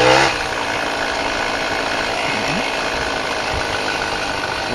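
A small car ridden through a rough, torn-up alley gives a steady mid-pitched engine drone with a faint rattle, loud and close, running continuously after a brief louder start.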